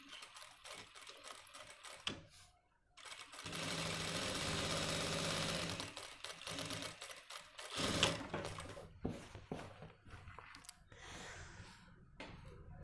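A sewing machine stitches along the root of the buckram on a Nehru-style jacket, running in long steady stretches broken by brief stops, close but quiet, with no talking.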